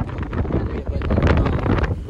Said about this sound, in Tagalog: Lakas ng hangin, Grace. Lakas ng hangin.